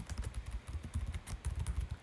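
Rapid, irregular clatter of computer keyboard keys as Python print code is typed, a steady close run of taps with no voice.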